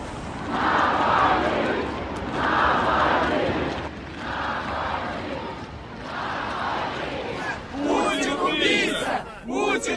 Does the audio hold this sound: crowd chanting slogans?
yes